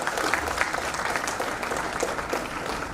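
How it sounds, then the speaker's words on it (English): Applause at a professional HR network chapter session, a moderately quiet, even patter of many hands clapping together without pause, heard from within the room. "very big round of applause"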